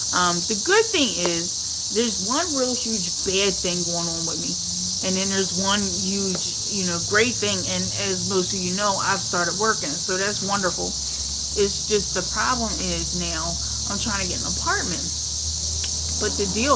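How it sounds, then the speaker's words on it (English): Cicadas buzz steadily outdoors as a constant high drone in the background while someone talks continuously over it. "can y'all hear the cicadas in the background?"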